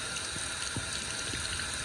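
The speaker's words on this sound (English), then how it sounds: "get your hose, put it in there and turn it on, and all of that dirty brown water will all just flush out" A garden hose runs water through a dirty 4WD, a faint, steady rushing trickle with a few soft splashes.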